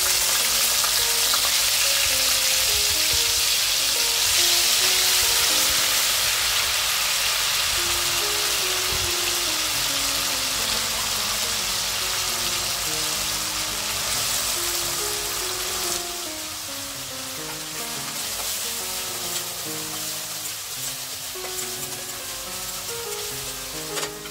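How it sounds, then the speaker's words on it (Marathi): Ginger garlic paste sautéing in a hot pan while cooking prawn rice, a steady loud sizzle and crackle with stirring, slowly easing slightly softer toward the end. "हे छानपैकी असं परतून घ्यायचंय"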